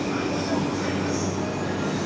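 A Tokyo metro train stands at a station platform, a steady low rumble and hum of rail noise filling the whole stretch at fairly close range, with no talk over it.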